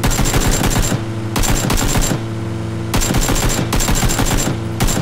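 Loud automatic gunfire in a PUBG duo shootout comes in rapid sustained bursts separated by short pauses, close and dominant with no talking.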